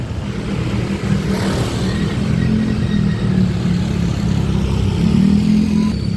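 A motorcycle rides through Pasig, its medium engine giving a steady, unbroken drone that swells slightly as it accelerates, with no talking.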